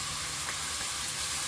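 Ginger garlic paste sizzles hard in a frying pan with onion, a steady close hiss of frying running loud and unbroken throughout.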